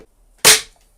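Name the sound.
Daystate Air Wolf .177 air rifle shot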